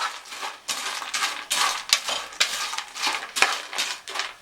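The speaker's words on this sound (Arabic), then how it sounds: "هناخد معلقه من صلصه الفته هنحطها على العيش، وهنقلبها تقليبه كويسه" A metal spoon scrapes and clinks against a dish while mixing tomato sauce into bread for fatteh, a rhythmic series of about nine strokes, close and fairly quiet with no talking.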